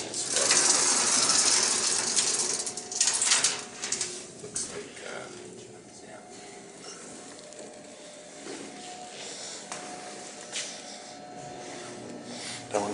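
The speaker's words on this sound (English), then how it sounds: "It's interesting how these doors are sliding," Manually operated two-piece sliding doors of an Otis traction elevator rattle and clank, with busy mechanical ratcheting that is loudest early on, then lighter scrapes and knocks.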